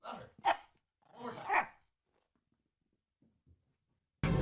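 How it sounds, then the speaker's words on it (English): A dog barks twice on command, close and fairly loud, in two short bursts with a silent pause and faint sounds after. "Speak, Gordy. Louder. Louder"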